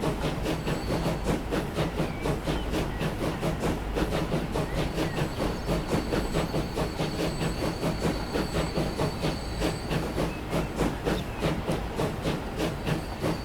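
Express Pullman train running in the Transport Fever 2 game, a steady rhythmic clickety-clack of wheels on rail joints with hissing, continuous and close, no voices.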